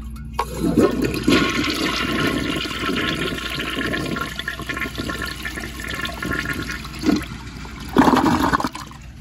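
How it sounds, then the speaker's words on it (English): A 1977 round Vitromex toilet flushes up close, a steady loud rush of water with gurgling and a brief surge near the end as the bowl rinses, no talking. "now I will do a super close-up flush like this"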